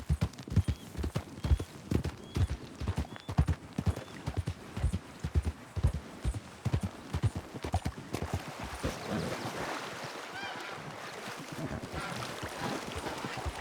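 Horse hooves clip-clop in a steady rhythm for several seconds in the video game Red Dead Online, then fade into a softer rushing, water-like background.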